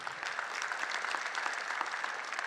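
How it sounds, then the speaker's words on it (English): Audience at a tech conference on SharePoint, OneDrive and Office clapping in a brief, even burst of applause from a seated crowd, moderately distant. "you can applaud to that"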